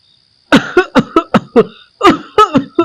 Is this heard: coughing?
yes